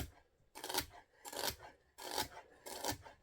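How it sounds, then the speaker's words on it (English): A knife chops celery on a cutting board, the blade kept on the board with a claw-hand grip, in four rhythmic bursts of crisp, scraping crunches, quiet and close with no talk. "So let's work on our celery, knife skills."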